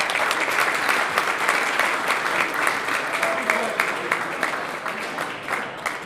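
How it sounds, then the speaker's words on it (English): Sustained applause from an audience for elected officials at a gubernatorial bus tour event in St. Charles, Missouri, steady dense clapping filling the room for the whole stretch, fading slightly toward the end. "Let's give them an applause."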